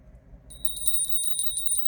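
A small bell rings in a rapid, shimmering series after a brief pause, clear and fairly close over a low background hum, with no talking.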